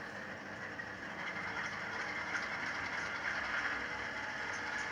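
A model locomotive fitted with a Soundtraxx Tsunami 2 sound decoder gives a steady, continuous mechanical hum and hiss with a faint rhythmic chuff, even and unbroken at moderate level.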